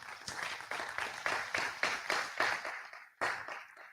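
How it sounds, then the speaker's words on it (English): A business summit audience at the University of Cabo Verde applauds, sounding as a series of rhythmic swelling waves of clapping close by, with one last sharp burst after a short pause. "I think they deserve a round of applause"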